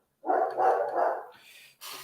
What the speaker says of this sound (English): My neighbor's dogs are quite loud.